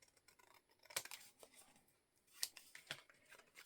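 Scissors trim a glued paper envelope pocket in a few short close snips with soft papery rustles between them, no voices.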